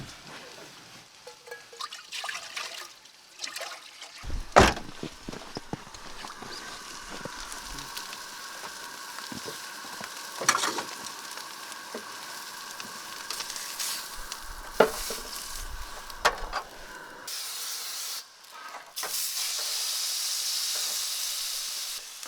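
A steak sizzles in a pan on a camp stove during winter truck camping in a blizzard, a steady frying hiss with sharp clatters and scrapes as the pan is handled, then a louder, brighter sizzle near the end, and nobody speaks.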